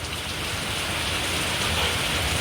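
Rain falling steadily outdoors, a dense even hiss of drops on surfaces that holds at the same level throughout, with no voices over it.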